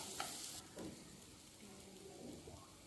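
Chilli masala stirs and sautés in a pan for a spicy prawn gravy, a soft steady sizzle with a few scraping stirs, fairly faint.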